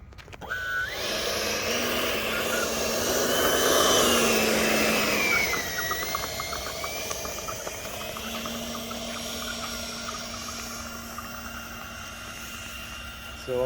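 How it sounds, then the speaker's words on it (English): A Freewing F9F Cougar RC jet's electric ducted fan rises to a loud whine as it takes off with half flap, then eases to a steadier drone with shifting pitch as it climbs away. "So I like the way it takes off with half flap."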